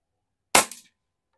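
A single sharp air gun shot firing an 18.13 grain pellet, loud and close, with a brief crack followed by a quick fading tail, alone in otherwise silent surroundings.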